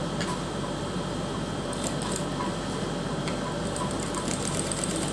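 A sewing machine stitches strips of gota lace onto a dress neckline, running in a steady continuous whir with faint ticking clicks throughout.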